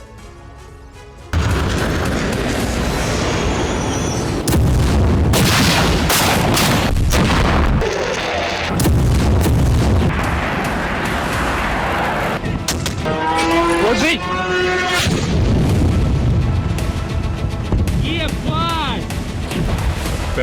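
Booming explosions and bursts of gunfire from Russian bombing of Kharkiv, loud and dense, with repeated heavy blasts and crackling impacts through most of the stretch; voices and siren-like wailing rise at times over the din.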